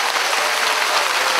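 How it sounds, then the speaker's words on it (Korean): A concert audience breaks into dense, loud applause, a continuous wash of clapping filling the short moment without any voices on top. "박수 한번 보내주세요."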